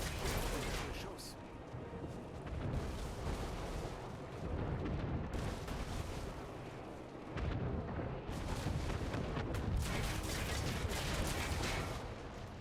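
A ship under cannon fire in the game Anno 1800, heavy rumbling booms and dense broadband blasts in several long surges, loud and continuous, with a voice in the mix.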